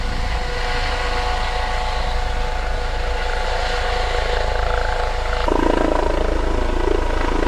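A helicopter circling low outdoors produces a continuous rotor rumble and engine drone, and the tone shifts and grows slightly louder near the end as it passes overhead. No one speaks.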